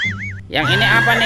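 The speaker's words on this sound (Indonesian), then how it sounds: "ini ada kuda zebra teman-teman" A toy horse or zebra gives a short electronic whinny right after a brief warbling tone, loud and close, while a person speaks.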